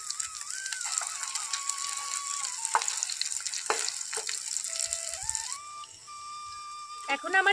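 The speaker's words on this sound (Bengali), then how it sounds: "এখন আমার ডিমগুলো ভাজা হয়ে গেছে" Eggs frying in a pan in batches, shaped and flipped partway through, give a steady loud sizzle and hiss with a thin whistling tone drifting above it that shifts near the end.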